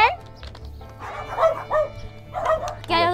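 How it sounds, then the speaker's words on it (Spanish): Small dogs bark and yip at a small farm in Lake Elsinore, California, with several short, sharp bursts over a steady low hum and background noise. "Perritos."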